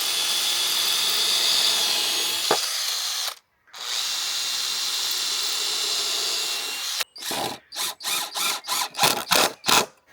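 Power drill boring pilot holes into 18mm-thick scrap wood for a storage cabinet: two long steady whirring runs, a short break between them, then a series of short rhythmic trigger bursts, close and loud.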